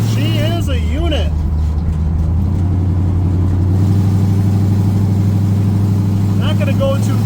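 A 1979 Pontiac Trans Am engine pulls loudly and continuously through its gears, the tone dropping at each shift, with someone talking over the running engine.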